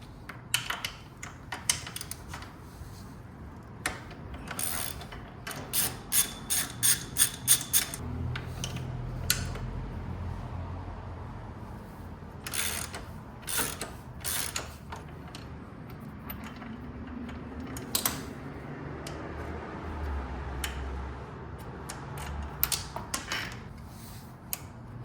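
Ratchet wrench clicking in quick bursts while loosening 14mm bolts on Kawasaki Eliminator 500 crash bars, close and fairly quiet with pauses between runs of ticks and faint metallic handling.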